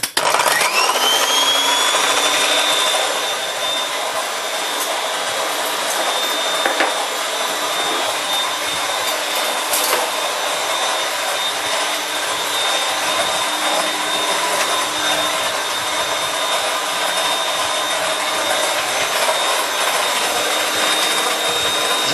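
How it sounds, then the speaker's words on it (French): An electric kitchen mixer whips eggs for a chocolate mousse, a steady high whine running continuously and loud for the whole stretch after starting up, with no talk over it. "hop, au mixeur, ça va faire un petit peu de bruit le temps que ça monte"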